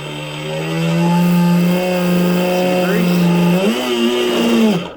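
Blackjack 42 RC boat drive spooling up on the stand, a steady whining tone that holds, then climbs in pitch near the end before cutting off, loud and close with no talk.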